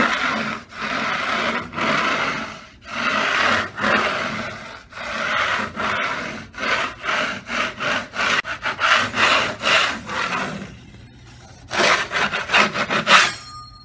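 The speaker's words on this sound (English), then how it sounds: "Basically just go over the wall with your 6-inch knife and look for any high spots, ridges, or any chunks of mud" A 6-inch drywall knife scrapes dried skim coat mud off a wall, making repeated rasping strokes in an uneven rhythm, close and fairly loud, with brief pauses between passes and a quicker burst of strokes near the end.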